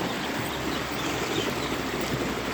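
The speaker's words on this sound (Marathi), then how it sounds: "पाणी वाढायला लागले" Continuous rushing of a rising stream, a dense, even wash of sound close by with no pauses.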